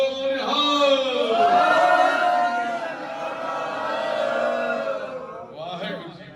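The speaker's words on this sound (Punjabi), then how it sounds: "ਆਪਾਂ ਹੁਣ ਧੀਰੂ ਬਾਈ ਦੇ ਜਨਮ ਦਿਨ ਨੂੰ ਮੁੱਖ ਰੱਖਦੇ ਕਿ ਜਕਾਰਾ ਲਾਉਣਾ। ਆਵਾਜ਼ ਹੈ ਜਿਹੜੀ ਉਹ ਅਸਮਾਨ ਤੱਕ ਜਾਵੇ।" A crowd raising the Sikh jakara battle cry for a birthday gathering in Ludhiana, a loud sustained chorus of voices swelling together, tapering briefly and then rising again near the end.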